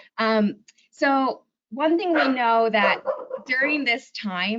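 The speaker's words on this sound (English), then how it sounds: "Sorry for my dog" A dog barks and yips in short bursts while a person speaks in an online talk, the barking near and loud, interrupting and overlapping the voice.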